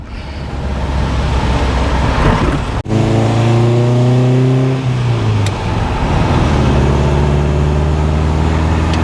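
A classic MGB GT, one of the last Abingdon-built cars, revs hard on a test drive, its engine note climbing through gears with a brief break between pulls, loud and close with cabin and road noise.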